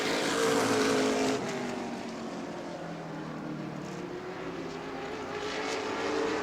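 Modified race cars roar around a narrow racetrack at a summer night event, a distant, sustained blend of engines swelling and fading as the pack passes, with a continuous crowd-and-track wash underneath.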